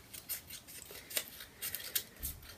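Scissors snip through paper, cutting a craft sheet into two strips, with a series of short, crisp cuts coming close and quiet at an irregular rhythm, with no talking.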